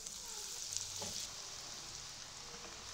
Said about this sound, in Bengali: ওই একইভাবে বাকি চপগুলো ভেজে নেব।